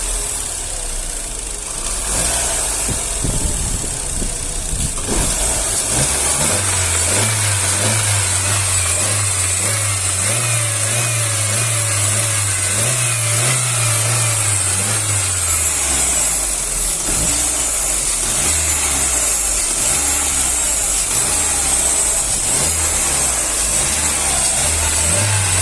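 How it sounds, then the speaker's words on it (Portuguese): A 2009 Chevrolet Astra engine being diagnosed for a noise is revved and released repeatedly, its close, loud drone climbing and falling back toward idle, with no talking. "Ele tá acelerando e soltando"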